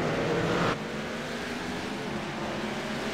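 Race cars pulling out of a turn in a short-track event, a dense engine roar that is louder in the opening moment then settles into a steady broad drone of several cars running together.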